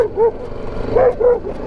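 Several short dog barks and yips from a dog chasing a motorcycle on a road in Iran, fairly close and sounding over steady engine and wind noise.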